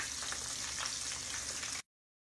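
Floured chicken gizzards fry in a pan, giving a steady, close hiss and crackle of hot oil that cuts off abruptly into silence.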